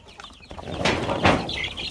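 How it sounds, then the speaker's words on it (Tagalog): A batch of young chicks, about to be taken out to the farm, peep and chirp close by with some soft wing flutter and shuffling, continuous and fairly busy throughout. "Ito naman yung ating mga sisiw na dadalhin natin sa bukid din."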